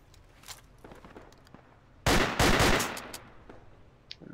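A rifle fired with its bipod deployed in an infantry shooter game lets off a loud, close rapid burst of shots, surrounded by quieter faint clicks and distant pops.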